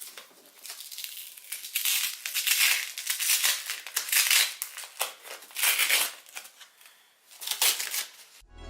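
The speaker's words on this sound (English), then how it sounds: "So now let's do the fun part and take off all the plastic" Plastic protective wrap is peeled and pulled off a new iMac, giving close, steady crinkling and crackling in repeated bursts with short pauses between them.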